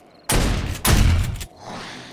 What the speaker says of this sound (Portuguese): Tiro no peito, tiro na boca,